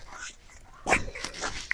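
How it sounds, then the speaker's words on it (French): A guard dog at the Maupertus manor gives a single fairly close bark among soft whimpering sounds and background murmur. "Montre le chien."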